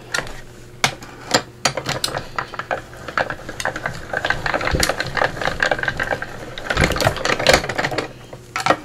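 A die cutting machine is hand-cranked through a pass during a mixed media fiber paste texture project, giving a steady mechanical grinding hum with sharp ratcheting clicks and clacks, close and fairly loud, with no talk.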